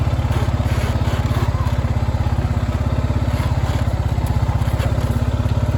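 A four-wheeler ATV engine idles close by on a farm with cattle, a steady fast low putter pulsing evenly throughout with faint rustling noises over it.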